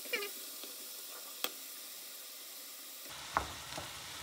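Drained spinach dropped into a hot pan, a faint sizzle with a few sharp knocks and a louder hiss that swells near the end.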